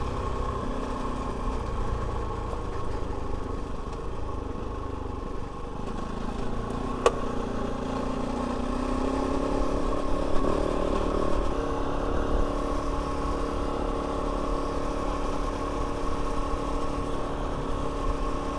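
A Kove 450 Rally motorcycle rides a trail at gentle throttle, its mid-pitched engine humming steadily with mild rises as it picks up speed. A single sharp click sounds midway and no one speaks.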